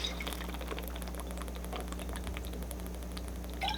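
Drinking water being poured into a cup or bottle, a steady liquid trickle heard close up over a constant low background hum, with no talking.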